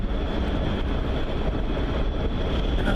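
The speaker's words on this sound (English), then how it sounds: "as you can probably hear, engine's running." A sailboat's engine runs steadily on a cold early morning while motoring toward Port Townsend off Seattle, a continuous low drone with a faint high whine, loud and even throughout with no talk.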